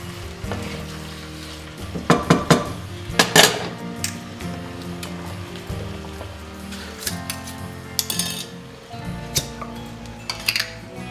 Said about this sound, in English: Let's give that a quick stir.